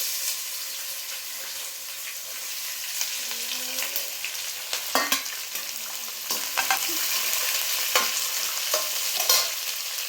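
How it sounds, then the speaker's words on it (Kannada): Onion, green chili, coriander leaves and curry leaves fry in a hot pan for vermicelli upma, giving a steady close sizzle with scattered stirring clicks and scrapes throughout. "ಈಗ ಈರುಳ್ಳಿ, ಮೆಣಸಿನ್ಕಾಯಿ, ಕೊತ್ತಂಬರಿ ಸೊಪ್ಪು, ಕರಿಬೇವು ಸೊಪ್ಪು ಎಲ್ಲ ಹಾಕ್ತಿದ್ದಾರೆ"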